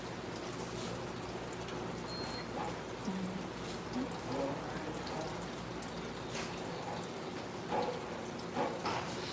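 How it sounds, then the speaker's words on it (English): Steady rain falls on a rainy day in Kingston, a continuous even hiss of drops with a few louder nearby splashes and faint bird calls, moderately loud and unbroken throughout. "we're finally getting some well-needed rain"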